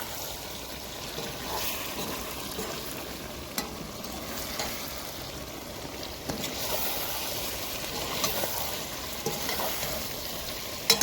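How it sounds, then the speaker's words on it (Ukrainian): Plov is stirred in a pot over an outdoor wood stove, a soft continuous sizzle with scattered scraping and clinking of the spoon against the pot, moderately quiet and steady. "І все це діло я добряче перемішую."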